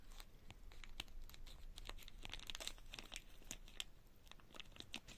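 Scissors cut into a Japanese snack wrapper, faint crinkling and tearing plastic crackles in quick irregular snips, close and quiet with no talk.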